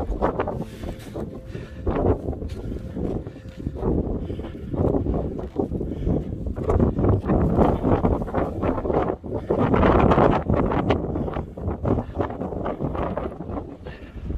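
Strong wind buffets the microphone near the summit of Slight Side and Horn Crag in the Lake District fells, a loud continuous roaring rumble with gusty surges throughout.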